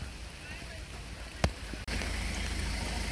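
Steady rain hiss fills the air outdoors in Edinburgh, with a sharp knock partway through and a brief dip before the patter resumes.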